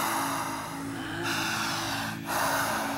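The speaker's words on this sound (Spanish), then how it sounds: "quienes empiecen a respirar fuerte, igual que yo, vociferante, jadeante, intensa" A man breathes loudly and forcefully, panting with strong rasping breaths close up, alone without talk.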